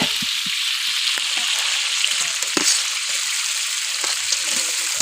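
Green chilies and onions frying in hot oil in a village-style outdoor cookout, a steady broadband sizzle with faint stirring clicks throughout, no talk.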